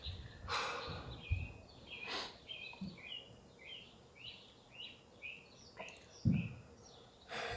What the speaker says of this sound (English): You can hear the birds out.